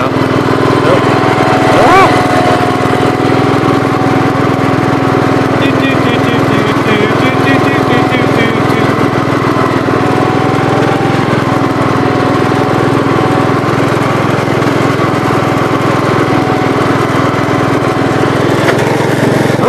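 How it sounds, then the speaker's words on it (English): A 1981 Gravely 8122 tractor engine runs steadily nearby, a continuous loud droning hum with no change in pace for the whole stretch, and a voice occasionally heard under the engine noise. "The tractor seems like it runs nice."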